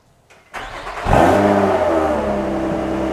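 A right-hand-drive manual car with just over 400 miles on it starts up and revs hard, the engine note climbing sharply and holding at a loud, steady drone close to the microphone.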